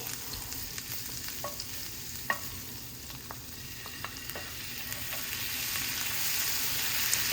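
Ginger, garlic and green chili sizzle in hot oil for chili paneer fried rice, a soft steady hiss punctuated by scattered sharp pops and spoon scrapes, gradually growing louder, with no talking.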